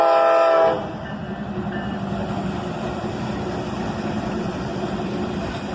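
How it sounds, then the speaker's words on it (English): A freight train led by a flared-radiator SD70MAC locomotive and a pair of BNSF locomotives sounds its horn briefly before rumbling past loud and close, a steady heavy roar of engines and wheels. "a flared radiator SD-70 Mac leads a pair of BNSF locomotives"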